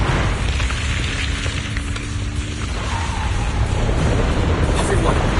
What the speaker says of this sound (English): The ground's shaking.